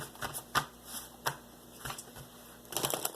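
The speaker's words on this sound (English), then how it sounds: "And then I'm going to pull one Angels and Ancestor cards here." Angels and Ancestors oracle cards being shuffled and pulled, a run of soft papery riffles and slaps with a brief burst of rapid flicking at the end, close and quiet, no talking.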